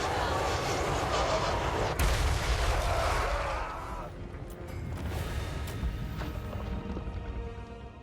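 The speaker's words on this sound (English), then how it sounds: "I love hell cannons." Hell cannon artillery fires in a fantasy strategy video game: a loud dense battle roar with a sharp blast near the start, then quieter rumbling and scattered impacts, with no talking.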